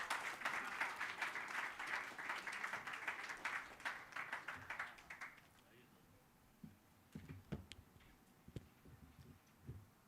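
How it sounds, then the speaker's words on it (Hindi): Applause from a mushaira audience welcoming the poet Imran Faris at an all-India poetry gathering, dense clapping for about five seconds that thins to scattered claps, with murmuring voices underneath. "तालियों से आप उनका इस्तकबाल करें।"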